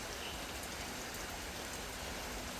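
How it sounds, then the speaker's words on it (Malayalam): Steady rain falls outdoors, a dense even hiss of drops with no voices. "ഇനി ഒരു 3-4 ദിവസം കൂടി ഇങ്ങനെ മഴ പെയ്യുകയാണെങ്കിൽ പുഴ പോലെ വരമ്പൊന്നും കാണില്ല അല്ലേ കുഞ്ഞപ്പാ"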